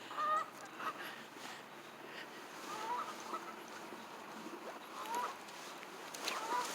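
A flock of geese honks at a distance, with scattered calls overlapping against a noisy outdoor background and no nearby talking.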